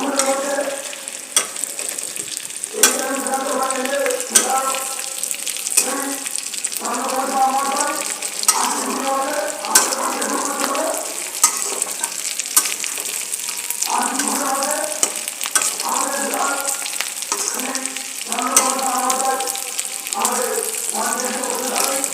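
Chicken and browned onions frying together in a pan for chilli chicken, a steady sizzle broken by repeated scraping and stirring strokes of a utensil, close and continuous.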